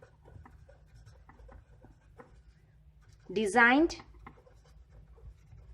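Faint scratchy strokes of writing on a board during a lecture, quiet repeated ticks running under steady speech, with a louder spoken phrase partway through.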